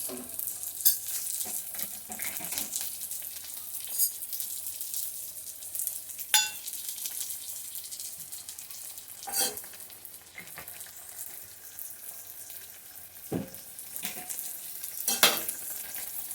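Pointed gourd cooking in a pan with kasundi and tomato sauce, a low continuous sizzle broken by several sharp scrapes and clinks of a spoon stirring against the pan, no talking.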